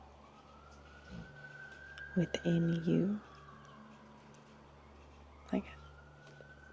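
Faint emergency-vehicle sirens wail in the distance, a slow rising and falling tone that stays in the background. A soft voice talks quietly over it.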